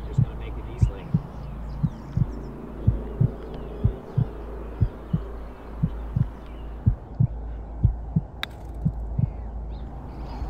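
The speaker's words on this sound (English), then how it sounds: "Was that the heartbeats?" Heartbeat sound effect at a golf event, a steady, regular thumping pulse of paired beats under faint background noise and a sharp, brief sound near the end.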